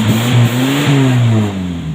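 A car engine running on BBG gas fuel revs up in a steady, loud, close rise. The pitch climbs and holds smoothly for about two seconds, with no voices over it.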